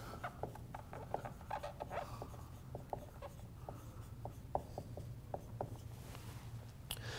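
Marker or chalk drawing strokes on a classroom board during a science lesson, a quick series of short, sharp scratchy taps and squeaks at close range over a steady low hum, with no talking.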